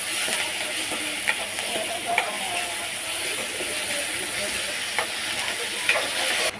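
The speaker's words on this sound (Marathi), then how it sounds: "त्याच्यामध्ये टोमॅटोची प्युरी टाकून घेणार आहे मी। त्यालाही व्यवस्थित आपल्याला परतवून घ्यायचं आहे" Tomato puree sautéing in a pan gives a steady, even sizzle and hiss, with a few faint clicks of a stirring spoon scattered throughout.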